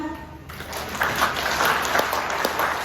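A crowd bursts into steady applause after a brief moment of a voice, the clapping dense and sustained for a few seconds.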